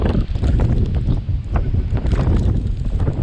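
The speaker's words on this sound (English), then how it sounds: "The wind actually died down a little bit." Strong Hurricane Dorian wind buffets the microphone outdoors beside a Ford F350 Powerstroke truck, a loud, constant rushing roar with gusty surges and no speech.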